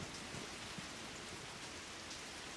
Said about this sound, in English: The rain seems to only get stronger while we continue our meal.